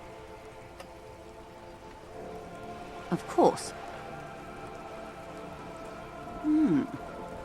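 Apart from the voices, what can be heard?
rain falling on wooden boards and water, video game Disco Elysium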